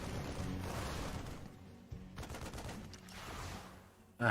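Marines and marauders open fire in a StarCraft II battle, a dense, continuous rattle of rapid gunshots that stays steady throughout and ends in a sudden louder burst.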